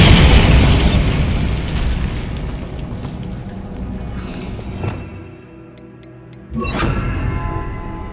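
A Bombarda spell in Hogwarts Legacy goes off with a loud, booming blast that rumbles and fades, followed by a brief quiet and then a second sharp burst.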